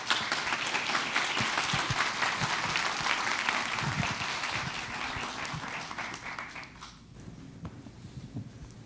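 Sustained audience applause for conference panelists at a labour forum on driver shortages, dense clapping filling the room for several seconds before thinning out near the end.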